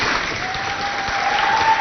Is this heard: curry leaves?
no